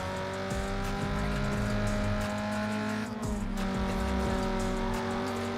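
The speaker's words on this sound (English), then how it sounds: "I can hear his crappy little engine behind me." Opponent's car engine in Need for Speed Underground 2, a steady droning hum with layered harmonics that holds throughout, joined by game music and brief tire and shift sounds.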